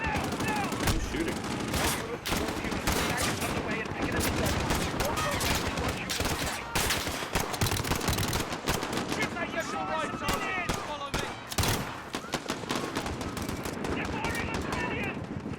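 Dense, continuous gunfire from a Call of Duty match, rapid automatic bursts and loud shots packed together with barely a pause, with game voices faintly underneath.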